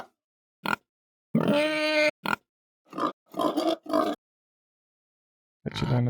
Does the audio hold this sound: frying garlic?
no